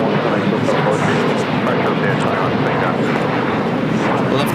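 Asiana Airlines A380 airliner arriving at LAX, a steady broad jet roar that holds at full strength throughout with no break.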